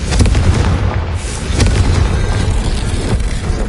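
A Confringo fire spell exploding in Hogwarts Legacy, loud booming blasts with crackling bursts layered over a dense rumbling game soundtrack, no talking.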